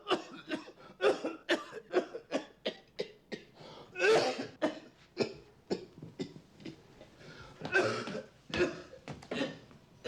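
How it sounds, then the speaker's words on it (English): Repeated harsh coughing from a smoker, a rapid series of sharp close bursts with brief gaps and a few heavier fits, heard alone without speech. "Your cough's getting worse."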